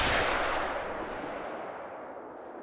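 A single hunting rifle shot rings out in theHunter: Call of the Wild, a loud sharp crack at the start followed by a long rolling echo that fades out over a few seconds.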